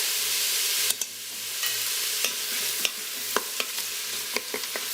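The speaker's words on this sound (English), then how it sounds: "We need to keep stirring till the onions turn caramelized or brown in color." Sliced onions with salt fry in a hot pan while a utensil stirs them. A steady sizzle runs throughout, broken by sharp scraping clicks of the spoon against the pan, close and clear, with no talking.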